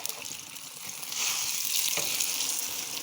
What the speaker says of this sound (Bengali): দেখছেন ভেন্ডি ভাজি ডিম ভাজি এক লগ হয়ে গেল।